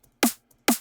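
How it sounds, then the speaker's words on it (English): A classic dance-floor drum and bass snare sample fires twice about half a second apart, each hit a punchy crack with a low, weighty body and a bright splashy top that fades quickly, dry and up front. "that's like a classic sort of DnB snare that you'll hear in like dance floor DnB"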